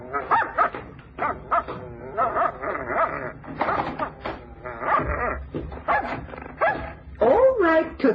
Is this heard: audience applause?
no